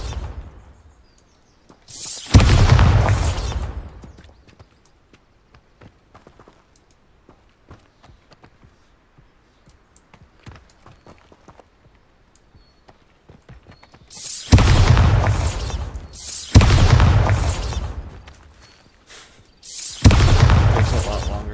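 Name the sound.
Bombarda spell explosions in the video game Hogwarts Legacy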